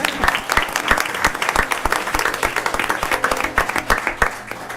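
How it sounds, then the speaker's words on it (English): A council meeting audience gives a round of applause, close, distinct handclaps forming a lively, uneven rhythm over several seconds with little talking. "Yes, round of applause."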